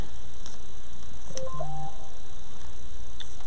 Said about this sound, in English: my phone has been going off all morning.